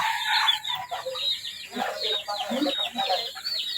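Chickens clucking and a rooster crowing among farm-raised crossbreed fowl, several close, overlapping calls in a busy, continuous run.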